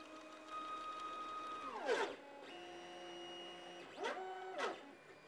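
A 3D printer converted into a pen plotter with an automatic pen changer runs steadily, its stepper motors whining in sustained tones that glide up and down in pitch as the axes move, with no voices.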